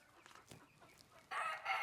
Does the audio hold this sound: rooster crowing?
yes